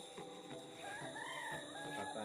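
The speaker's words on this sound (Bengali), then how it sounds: "মুরগি ডাকছে দূরে শোনা যাচ্ছে" A chicken calls faintly from far off, its drawn-out crowing carrying over a steady background hum.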